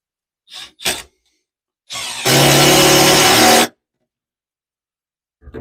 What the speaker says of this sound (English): So much easier with power tools.